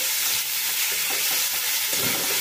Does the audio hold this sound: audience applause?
no